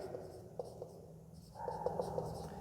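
Marker or chalk strokes on a board while a GST math problem from a class 10 lesson is worked out, a soft scratchy scrawl with light taps, faint at first and growing steadier and closer in the second half.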